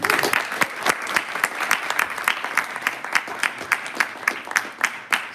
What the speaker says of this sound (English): So, big applause for them as well.